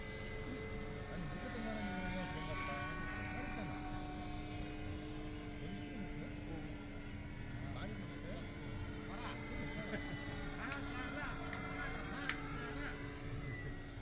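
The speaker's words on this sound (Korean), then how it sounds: "비행기 어디 갔어? 저기 있어." A radio-controlled Cessna 182 model airplane on a 4-cell battery, on its first test flight, hums steadily through the whole stretch, a continuous motor whine with shifting tones as it maneuvers, while people talk over it.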